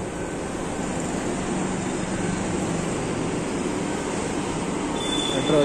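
A metro train pulls into Tilak Nagar metro station with a continuous loud rumble of wheels and motors that builds slightly toward the end, with a faint high squeal as it slows.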